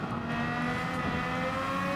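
Race cars in a racing video game featuring a Honda RA272 build, a steady sustained engine drone at moderate level with no distinct pass-bys, with no talk.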